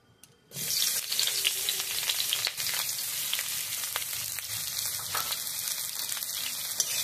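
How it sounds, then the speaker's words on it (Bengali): Onion frying in mustard oil in a wok, a dense crackling sizzle that starts suddenly as the onion hits the oil and then continues steadily and loudly, with no voices. "এবার কড়াইতে আরেকটু সরষের তেল দিয়ে পেঁয়াজটা ভেজে নেব।"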